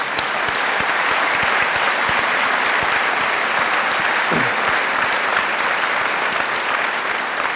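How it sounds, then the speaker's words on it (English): A large graduate commencement audience gives loud, sustained, dense applause with no break throughout. "ladies and gentlemen, please help me applaud Dr."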